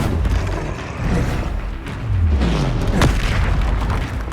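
Several deep explosive booms from the Confringo blast spell in Hogwarts Legacy, rumbling one after another over a steady roar of game ambience, with a sharp crack near the end.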